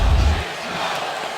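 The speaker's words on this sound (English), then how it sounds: "Huge crowd on hand." Huge crowd filling a 100,000-seat outdoor stadium at the NHL Winter Classic between the Toronto Maple Leafs and Detroit Red Wings, a broad distant roar with a heavy low rumble at first that then eases into a steady murmur.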